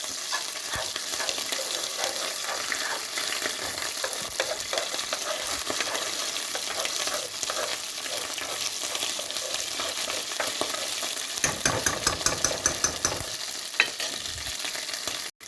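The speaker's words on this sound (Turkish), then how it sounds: "salçamızı ilave ettik ve şu şekilde karıştırıyoruz" Steady loud sizzling of pepper paste frying in hot oil, with a spoon scraping and stirring through it continuously near the end.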